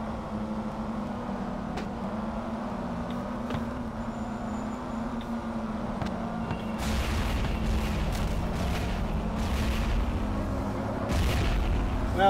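Bombs exploding in a car combat video game, heavy low booms and blasts over a droning engine hum, growing louder and denser in the second half.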